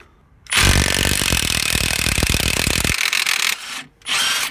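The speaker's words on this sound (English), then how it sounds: "let's see if the mid-torque can handle a Honda crank bolt" A Milwaukee mid-torque impact wrench hammers on the crank bolt of a 1991 Honda Civic with a 1.5 engine: a loud, close, rapid rattling burst of about three seconds, then a short whir and another brief burst.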